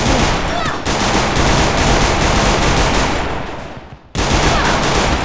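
Minigun fire in the Free Fire video game: a loud, dense, continuous roar of rapid shots that fades briefly near the end and then cuts back in at full strength, with no speech.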